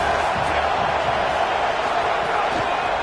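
Stadium crowd at a football game roaring in a steady, loud wash of cheering and noise that fills the whole moment, with a commentator talking over it.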